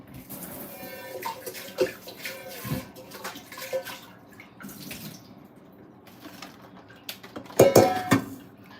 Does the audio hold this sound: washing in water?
yes